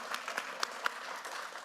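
A meeting audience applauds a list of long-service milestones, a brief patter of scattered hand claps at moderate distance, with a few sharper individual claps standing out.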